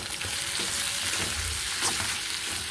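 Masala with tomato and sugar frying in oil for Rui fish kofta curry, a steady close sizzle with soft scraping of a spatula as it is stirred, continuous and fairly loud, no voices.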